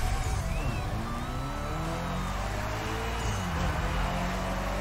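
A Mitsubishi Eclipse GSX Star Edition launching in The Crew Motorfest: a loud, sustained engine roar climbing through the revs, with a faint tire squeal near the start and no talking.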